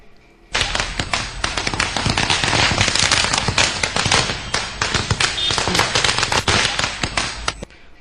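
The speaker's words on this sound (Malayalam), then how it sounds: "BJP പ്രവർത്തകർ പടക്കത്തിന് തിരികൊളുത്തി" A long string of firecrackers set off by BJP party workers celebrating an election lead, crackling in rapid, dense, loud bursts for about seven seconds before stopping abruptly.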